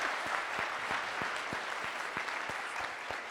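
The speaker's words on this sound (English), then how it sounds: "please applaud if you have never seen the Theater of Public Policy before." Conference audience at a walking summit closing plenary applauding, a sustained dense roar of many hands clapping in a large hall, with a regular thumping pulse running through it.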